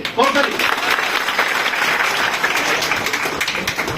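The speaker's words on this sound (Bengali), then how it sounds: "তালিটা আরো একটু জোরে হওয়া উচিত" An audience at an SSC and Dakhil student felicitation ceremony in Gaibandha claps steadily, a loud continuous wash of applause filling the hall from start to finish with a brief voice at the opening.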